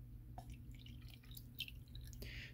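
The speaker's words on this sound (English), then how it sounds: "find a way to pour the coffee through the filter, and slowly it's gonna sip to the bottom" Coffee trickling slowly through a filter into a cup, with a few distinct drips and small splashes scattered over a quiet background hum, close and faint.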